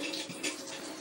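Water running from a tap, a brief steady gush of flowing water, close and continuous.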